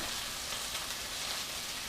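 Shrimp sizzling in a hot pan with garlic, a steady dense hiss throughout, close and unbroken, with no talk.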